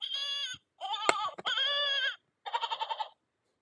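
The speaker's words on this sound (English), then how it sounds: "the goat, actual emergency goat, is the only one that still works" A toy emergency goat sound button plays its recorded bleat: several wavering, nasal goat bleats in quick bursts with short gaps, close and loud, ending in a rapid quavering bleat.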